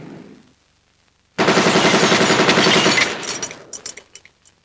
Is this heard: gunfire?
yes